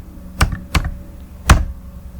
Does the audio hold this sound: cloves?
no